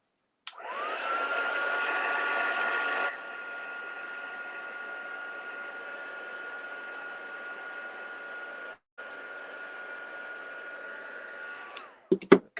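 Electric heat tool blowing hot air onto petals for flower forming, a steady whirring hum that starts abruptly, drops in level partway, cuts out briefly, then stops with a few clicks and handling knocks at the end.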